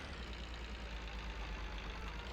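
A tractor engine idles in Farming Simulator 22, a steady low rumble that holds close and even for the whole stretch with no other sounds.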